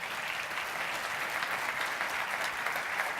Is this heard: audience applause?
yes